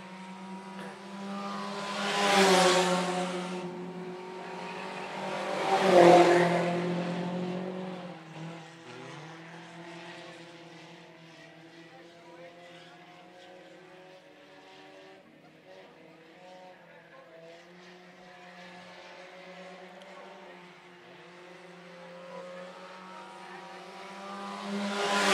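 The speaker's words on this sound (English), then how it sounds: "Two-car race to the finish as Merle Johnson is in complete control here" Sport compact race cars roar past at Phillips County Raceway on a dirt oval, two loud engine passes early followed by a sustained buzzing drone of cars circling farther off, with an announcer talking over them.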